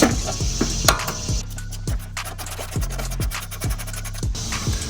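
A 14 mm wrench and socket work the pinch bolt on a Nissan 370Z steering knuckle, producing a close, rhythmic run of ratcheting clicks and metallic scraping at an even pace.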